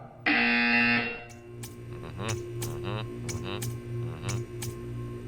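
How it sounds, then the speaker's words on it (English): A loud, steady electronic buzzer in the video game Portal 2 sounds for about a second, then cuts off, leaving a hum with short tonal chirps and blips. "You will hear a buzzer. When you hear the buzzer, stare at the art."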